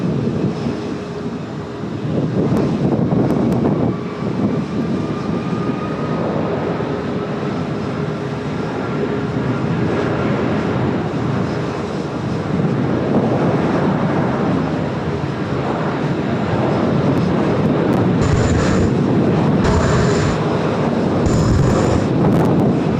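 An Asiana Airbus A380 rolls down runway 16 at Sydney Airport, a loud sustained jet engine roar that swells and fades over the long take, heard from nearby.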